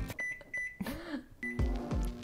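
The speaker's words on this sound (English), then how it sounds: "Let's get this in the microwave." A microwave oven runs with a low hum, broken by short beeps and clicks and a few quiet bumps, all faint and close by, with no talking.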